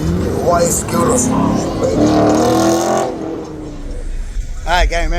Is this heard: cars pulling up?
yes